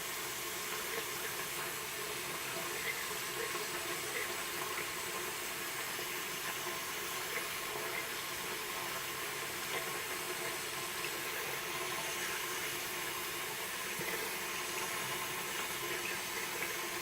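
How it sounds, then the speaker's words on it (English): Tap water runs continuously from a faucet over a Kawasaki Ninja ZX6R 636 motorcycle air filter being washed out, a steady close hiss with no talking. "We're just going to wash it out under the faucet here."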